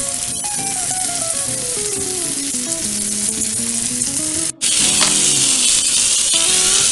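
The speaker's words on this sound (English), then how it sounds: "Saute them all together a little bit longer." Onions sauté in olive oil with other ingredients for chicken Marsala, producing a loud, continuous close sizzle with a tonal hum sliding in pitch beneath it and a brief dropout before the sizzle resumes.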